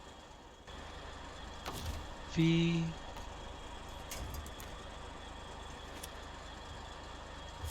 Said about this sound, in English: Start up the engine.